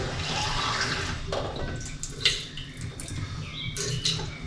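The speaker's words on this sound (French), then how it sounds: "Je remplis la gourde d'eau." Tap water runs into a water bottle being filled at home, a steady rushing splash with a few small knocks and clinks from handling the bottle; no one speaks.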